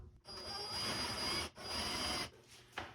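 A power drill bores holes into a wooden bathroom vanity drawer, two close grinding bursts with brief pauses between, followed by a short scrape, with no talking.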